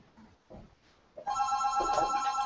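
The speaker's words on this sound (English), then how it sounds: "I'm going to let it ring." A home office phone starts ringing with a sustained, bright electronic trill that continues to the end, preceded by faint rustling.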